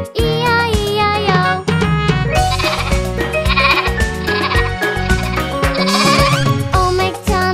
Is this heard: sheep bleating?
yes